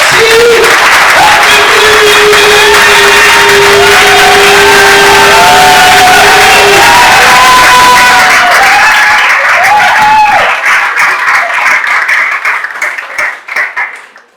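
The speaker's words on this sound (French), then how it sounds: "On les applaudit, s'il vous plaît" A church congregation applauds and cheers loudly, a dense, sustained wash of clapping with shouts and singing-like voices over it for about ten seconds before thinning to scattered claps and fading away.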